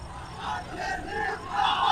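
Crowd at a political speech by Asaduddin Owaisi about Iran, Israel and Palestine, loudly chanting and shouting slogans together in a dense, continuous wash of voices that swells slightly toward the end.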